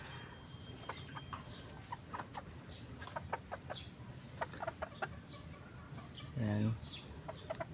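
Hens, including a black Cuban hen, cluck and murmur nearby in a coop while someone talks over them, with occasional louder squawks and a brief thump.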